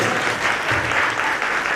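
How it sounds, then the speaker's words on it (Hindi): Children in the audience of a Jain religious stage play clap steadily for under two seconds, a dense, even wash of applause with no talking over it. "ताली बजाने दो जरा"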